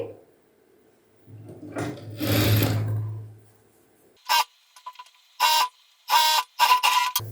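A sewing machine stitches a blouse strip in short separate bursts of close mechanical whirring. A low hum and some handling noise come before them.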